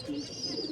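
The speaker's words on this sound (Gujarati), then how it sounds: "આજે ફાઇનલી ભાઈ કબૂતર પકડાઈ ગયું" A pigeon chick gives a soft, faint coo, a brief low murmuring call heard close up with no talking.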